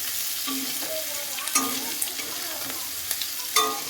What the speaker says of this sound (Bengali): পেঁয়াজটাকে লাল ব্রাউন কালার করে ভেজে নেওয়া হবে, কচ্চি করে ভেজে নেওয়া হবে।